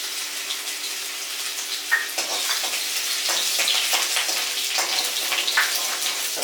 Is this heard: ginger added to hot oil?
yes